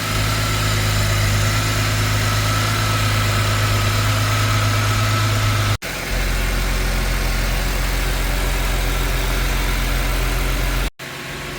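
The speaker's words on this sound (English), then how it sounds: "I know these engines are definitely louder. They are quite ticky for what they are, especially being a high mileage engine." A high-mileage car engine idles close by with a steady, dense hum and a faint rattling texture, briefly cut twice.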